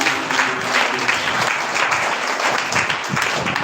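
A church congregation at a Friday meeting claps together, steady dense applause filling the room for a few seconds.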